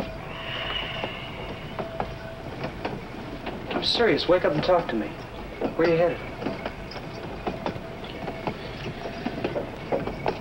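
Train running on rails, with a steady clickety-clack rhythm and low rumbling under two people's conversation inside a railroad car, plus a few faint metallic squeals.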